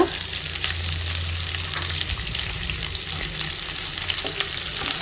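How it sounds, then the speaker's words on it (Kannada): Chopped onions frying in a pan of hot oil, a continuous dense sizzle heard up close with light stirring scrapes. "ಆನಿಯನ್ ಚೆನ್ನಾಗಿ ಫ್ರೈ ಆಗ್ತಿದೆ"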